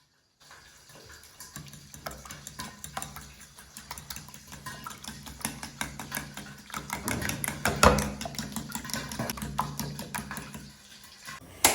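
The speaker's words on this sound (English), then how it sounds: "Whisk very well after cracking." A fork or whisk rapidly beating cracked eggs seasoned with salt in a bowl, quick clicking, tapping strokes that grow louder and more vigorous, close up, with no voices.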